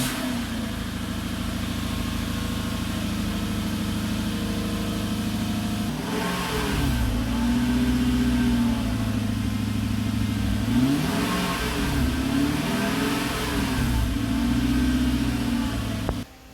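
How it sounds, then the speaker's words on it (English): A Lexus SC430 with its 3UZ-FE V8 and a custom exhaust, muffler deleted and Dynomax resonator fitted, holds a steady idle, then revs repeatedly in rising and falling swells, loud and close. "It's a V8. It's a small V8, and it's a beautiful engine."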